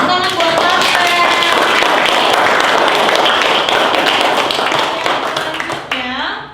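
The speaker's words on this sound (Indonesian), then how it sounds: "Tepuk tangan buat Marvel." A classroom of students applauds a classmate with dense, lively clapping throughout, ending abruptly as a teacher's voice comes in.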